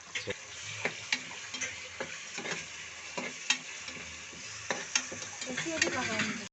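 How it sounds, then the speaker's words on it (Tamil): Ginger garlic paste sizzles and fries in a pan while a spoon stirs it with repeated light taps and scrapes, close but quiet. "இஞ்சி பூண்டு பேஸ்ட்டு சரி போட்டு வதக்கணும்"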